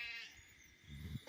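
A St Croix sheep lets out a single bleat near the end, fairly close and moderately loud against quiet outdoor background noise on a farm, with no one talking over it.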